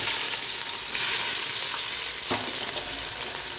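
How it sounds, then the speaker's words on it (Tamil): Onions fry in hot oil for chicken biryani with a steady, dense sizzle, close and continuous, and a few faint stirring scrapes. "இப்போ நான் ஆனியன் சேர்க்குறேன்"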